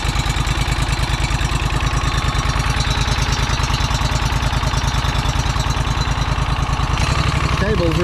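Trencher engine idling and warming up with a fast, steady thumping chug close by, loud and unbroken for the whole stretch, with a brief shift in tone near the end.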